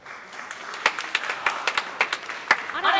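Concert audience at Cadogan Hall starting to clap, scattered individual claps building into a light rhythmic patter, fairly quiet and sparse rather than a full ovation.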